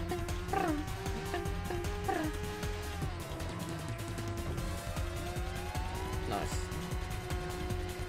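Cars racing in a PS1 racing game demo: a steady engine whine that slides up and down in pitch, with brief tire squeals near the start and again later, loud and continuous throughout.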